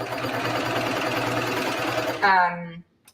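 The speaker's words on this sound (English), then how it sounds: "I'm going to overlap where I started to make sure that that stitching all stays in place." A sewing machine stitches around the elastic waistband of pajama pants, a close, steady rapid chatter that stops abruptly near the end, where a voice briefly speaks.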